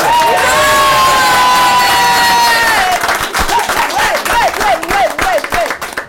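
A crowd applauds and cheers loudly for a band at a French broadcast event, with sustained clapping, high whoops and sung or shouted voices rising above the roar, ending in rhythmic repeated cheers.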